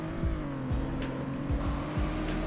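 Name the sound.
car driving in Roblox Greenville video game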